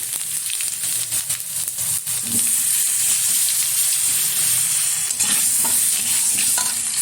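Potato pieces frying in hot oil with bay leaves and whole cumin, a loud continuous sizzle and hiss with occasional stirring scrapes, and no voices.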